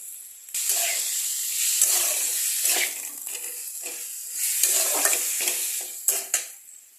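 Small, mostly boneless chicken pieces being stirred with salt in a pot for chicken biryani, a steady bright sizzle with hissing swells and scraping strokes of the spoon, close and continuous.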